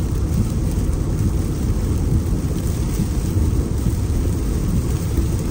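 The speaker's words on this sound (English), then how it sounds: "So it's just been kind of just rainy and windy" Steady, dense rain and wind during Hurricane Ian, a loud, constant roaring wash of heavy rainfall and gusts with no pauses or voices.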